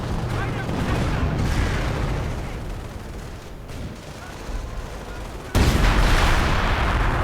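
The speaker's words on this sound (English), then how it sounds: "And a V1 rocket." A V1 rocket strike in a World War II strategy game lands as a heavy explosive boom amid rumbling battle noise and gunfire, with a loud sudden blast near the end and a voice talking over it.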